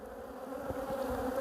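Honeybees humming steadily and faintly near an open hive while a frame is handled, a continuous soft buzz with no voices.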